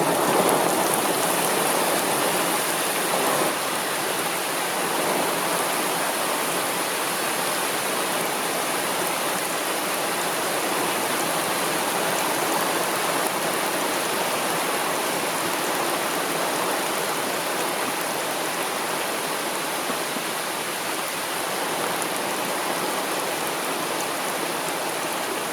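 Heavy rain pours steadily on a Costa Rica forest near La Fortuna, a dense, constant hiss of downpour and drops hitting foliage, loud and unbroken throughout with no voices.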